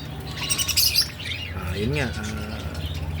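Pet birds chirping and squawking, a busy cluster of bright tweets early on and scattered calls after, close by, with a person speaking briefly over them.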